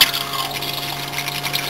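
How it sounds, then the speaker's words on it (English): An electric flush on a Thetford toilet in a Peugeot Boxer Autocruise Vista campervan, a steady close watery rush with a faint pump hum running throughout, no talking. "Now here we have the electric flush"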